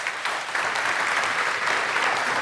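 Congregation at an Iglesia Vida Colombia church service applauding the Lord, a dense, continuous wash of many hands clapping at even loudness throughout.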